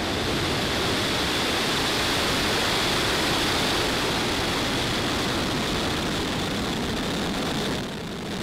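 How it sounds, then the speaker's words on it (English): A SpaceX rocket lifting off on a Starlink mission, a constant powerful roar of broadband noise that holds steady throughout and eases slightly at the very end. "Ignition and liftoff."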